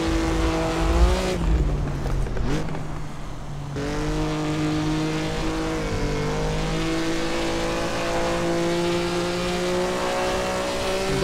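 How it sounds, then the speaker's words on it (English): Maserati 250F with a 2.5-liter six-cylinder engine in the Assetto Corsa racing game at the Nordschleife, a loud raspy engine note that dips briefly on a shift, then holds a steady high drone. "And just listen to that six-cylinder engine,"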